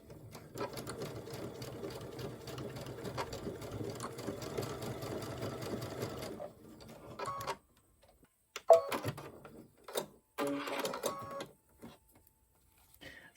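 A sewing machine stitching a zipper pouch, running in a steady rapid whir of stitches for several seconds, then stopping, with a few short bursts of stitching and handling clicks after.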